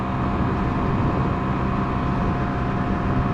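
A 2019 Honda Monkey motorcycle, stock, running at full throttle near top speed, a steady loud engine drone mixed with wind rush that stays constant throughout.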